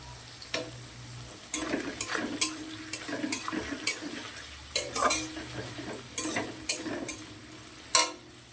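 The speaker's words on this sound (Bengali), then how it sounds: "দেখো পেঁয়াজ আর টমেটোটা খুব ভালো করে ভাজা হয়ে গেছে" Two large chopped onions and tomato frying in a pan for a posto katla fish dish: repeated rhythmic spatula scrapes and knocks over a soft continuous sizzle, close up, with no voices.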